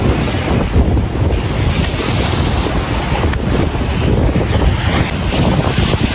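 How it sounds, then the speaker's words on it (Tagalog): Strong sea waves crash on a beach during a typhoon, with a continuous heavy roar of surf and gusting wind buffeting the microphone throughout, loud and close. "Ang lakas po ng alon, oh."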